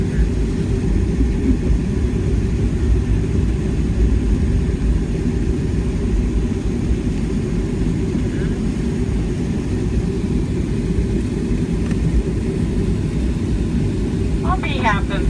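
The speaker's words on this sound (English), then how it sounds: "There goes another plane." Southwest Airlines Boeing 737-700 landing in Austin, heard from inside the cabin as a loud, steady engine and airframe roar that continues throughout without a break.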